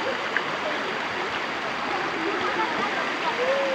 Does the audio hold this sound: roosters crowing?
no